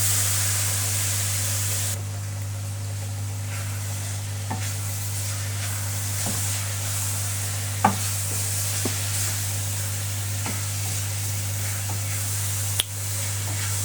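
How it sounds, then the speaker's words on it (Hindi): Carrot halwa fries in a pan with cardamom, a soft continuous sizzle with scattered scraping stirs and a few sharp clinks of the spoon against the pan, under a steady low hum. "अब इसके अंदर हमने इसको हलवे को फ्राई कर लेना।"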